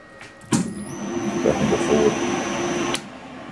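A powered lathe motor, driven through a VFD, switches on and runs in reverse with a steady whine and a high electronic tone, holding for about two and a half seconds before cutting off abruptly.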